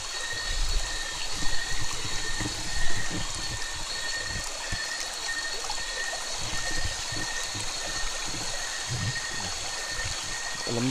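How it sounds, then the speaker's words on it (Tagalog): A forest creek flows and trickles steadily nearby, a continuous close babble of running water with faint bird chirps and occasional rustling. "yung tubig dito sa sapa na ito"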